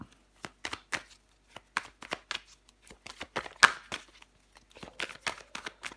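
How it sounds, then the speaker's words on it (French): Tarot cards set down one over another on a table during a reading, a string of quick, crisp taps and soft slaps, close and fairly quiet, irregularly spaced with brief pauses and no talking. "Je vais quand même encore recouvrir le 2 de bâton."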